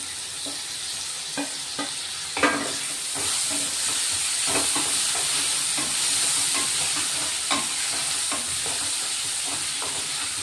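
Tomatoes added to well-sautéed onions frying in a pan for a bitter gourd dish, a steady loud hiss of sizzling with intermittent spoon scrapes and taps throughout, no voices.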